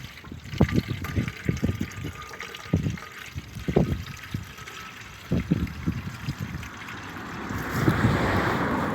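Spray mixture for spring fruit tree spraying, 900 ml of it, is poured into a watering can, making an uneven trickling and splashing with short bursts, close by and moderately loud, ending in a steadier wash of liquid.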